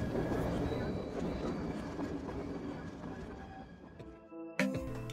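A passenger train runs through the interior of Alaska with a steady rolling rumble and faint clatter from inside the carriage, slowly fading, then a brief clunk and a short squeal near the end.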